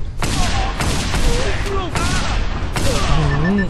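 Shotgun blasts from the video game Just Cause 2: four loud, sharp bangs spaced about a second apart, layered over busy in-game sound with whistling, sliding tones.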